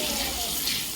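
Tomatoes and green chillies fry in masala, a brief, even, moderate hiss of sizzling oil lasting about a second.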